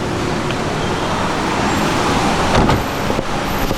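Dense road traffic with cars, buses and trucks moving slowly in a steady, loud engine and tyre roar, heard from inside the flow in India, with a brief swell of passing vehicle noise partway through.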